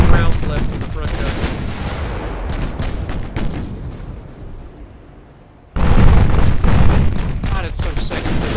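Battleship main guns firing in the naval game Ultimate Admiral Dreadnoughts, heavy booming blasts with rolling rumble and crackle that fade to near quiet before a fresh loud salvo erupts and sustains.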